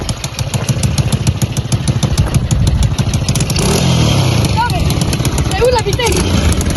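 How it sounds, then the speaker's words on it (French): Automatic motorbike pulling away and being ridden off, its mid-pitched engine revving steadily up close while people talk over it. "Bon, on va rouler."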